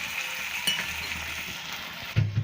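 Chicken sizzles in a pan with onion, tomato, chilli and capsicum for village-style chilli chicken. The steady frying hiss is close, with a brief stir at the start and a clatter of the pan near the end.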